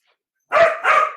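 A dog named Spider gives two quick, loud, close barks in succession after a moment of silence.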